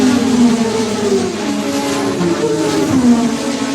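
Car driven aggressively through Los Angeles traffic, its engine holding a steady, loud drone with a shifting whine throughout, and no voices.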